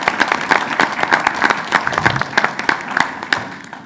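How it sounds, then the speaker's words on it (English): Applause from an audience at a March 2024 SACOG board of directors meeting after a morning tour, a few dozen hands clapping steadily and close by for about four seconds, with a faint voice underneath. "Another round of applause, I think, is in order for the great tour we had this morning"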